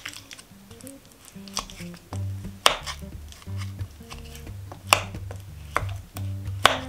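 Butter is worked one stick at a time into a vintage mashed potato cookie dough, heard as close, irregular soft thuds, squishes and clinks of a utensil against the bowl.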